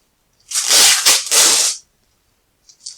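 Plastic bag from a Lego Exo Force set being torn open up close, a loud crinkly ripping burst in two or three quick pulls, followed by a faint rustle.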